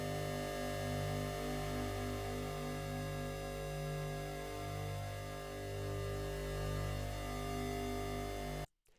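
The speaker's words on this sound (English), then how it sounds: "you can hear individual frequencies are sort of fading in and fading out." A SuperCollider-synthesized drone holds dense, steady tones while individual partials swell and fade in slow, regular pulses, continuous and even in level until it cuts off abruptly near the end.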